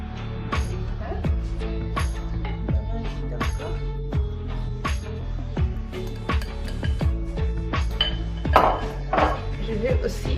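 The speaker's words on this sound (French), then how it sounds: "mélanger le tout ensemble, le liquide et le sec." Waffle batter of liquid and dry ingredients is mixed in a bowl, with a utensil clinking and tapping the sides in a quick, irregular rhythm, close and steady throughout.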